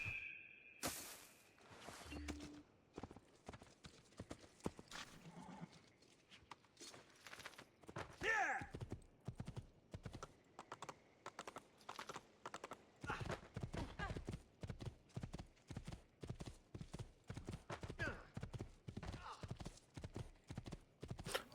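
Steady clip-clop of horse hooves trotting in a rhythmic pattern in Assassin's Creed II, with occasional voices and game-like effects underneath.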